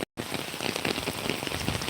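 Monsoon rain falling over a village, a dense, steady patter on surfaces that starts abruptly after a brief gap and continues close and loud, with no talk.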